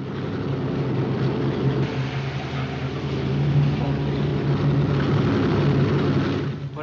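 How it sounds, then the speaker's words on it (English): A propeller airplane takes off in the film Casablanca, heard as a steady, loud engine drone that swells slightly midway and holds with no voices over it. "As soon as the plane goes, Louis."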